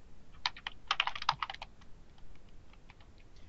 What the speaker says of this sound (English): So in that first search box, I'm going to type in